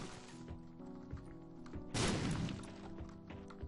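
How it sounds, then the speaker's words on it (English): Bombs exploding in The Binding of Isaac make a series of soft thuds and knocks, followed by one louder, crashing burst near the middle that decays into a rumbling tail, with no talking. "Let's go ahead and expend another 2 bombs to talk to a second Judgement"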